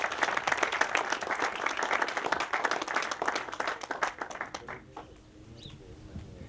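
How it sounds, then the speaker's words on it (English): An audience at a graduation ceremony applauds, a dense burst of many hands clapping that thins out over about five seconds and fades into quiet room tone. "Little applause for that folks."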